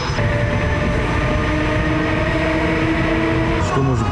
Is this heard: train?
yes